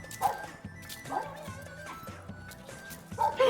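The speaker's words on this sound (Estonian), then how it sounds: "võtsid kohaliku koera ja siis ta jalutab su igale poole" A local street dog in Albania barks several times in short, spaced bursts, fairly close, over outdoor background noise.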